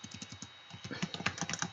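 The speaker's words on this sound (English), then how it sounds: "I always go back and read my stuff because I was like typing so fast, bound to make an error" Fast typing on a computer keyboard, a quick uneven run of close key clicks that speeds up and grows louder toward the end, heard on its own.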